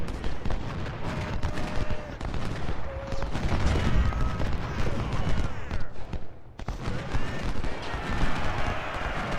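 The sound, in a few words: musket gunfire from Ultimate General: Civil War video game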